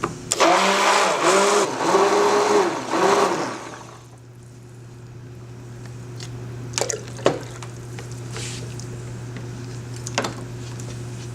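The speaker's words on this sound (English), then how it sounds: "so I'm going to stick blend it a bit more." A stick blender whirs in loud pulsing bursts through liquid soap batter for about four seconds, then stops, leaving a low steady hum with a few faint clicks and taps.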